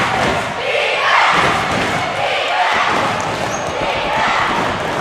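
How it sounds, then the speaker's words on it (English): A large crowd at a boys' high school basketball game roars and cheers continuously, a dense, loud wall of voices with a few shouts rising above it. "Let's hear this crowd."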